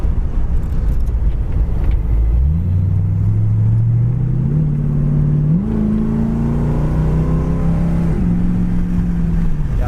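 A 1936 Ford five-window coupe's engine rumbles low as the car drives, revving up through several gear shifts with rising and falling pitch, loud and close, with no talking.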